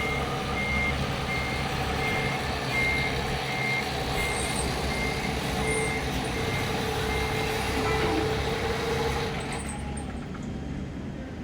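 A reversing vehicle beeps steadily as a car pulls out near a ferry jetty, its regular beeps carrying over a constant loud engine and traffic rumble.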